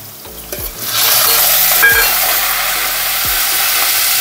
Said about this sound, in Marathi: चला तेल टाकलेलं आहे, लसूण टाकते.